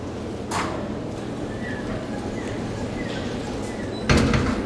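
The door of a vintage ESCO hydraulic elevator in the Law Building at the Museum of Fine Arts, Houston slides shut with a soft bump and then a firmer closing thud, over a low steady machine hum.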